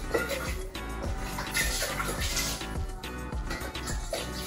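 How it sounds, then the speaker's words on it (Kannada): Running water pours and splashes steadily while a pressure cooker is rinsed and scrubbed at a kitchen sink, with light clatter of the metal pot and faint background voices throughout. "ಕುಕ್ಕರ್ ತೊಳ್ಕೊಂಡ್ಬಿಡ್ತೀನಿ"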